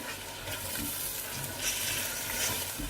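Chicken cooked with tomato and yogurt for yakhni pulao is lightly fried in a pan, giving a soft, steady sizzle with faint stirring scrapes, quiet and close, with no talking.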